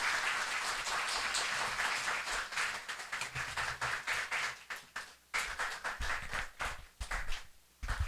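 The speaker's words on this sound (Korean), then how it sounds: "크게 격려의 박수 치면서 우리 목사님 맞이하기를 소망합니다" A church congregation claps in welcome for a visiting pastor, loud scattered applause that settles into uneven, fading bursts of clapping.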